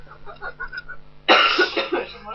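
A man with the flu lets out one sudden, harsh cough close by, right after some quiet talking, followed by a few rough, breathy catches.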